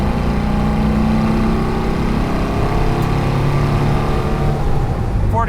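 A 1964 Porsche 356C Cabriolet's engine pulls hard under throttle around 4,000 RPM while merging onto a road, a loud, steady drone with wind and road noise that barely changes throughout.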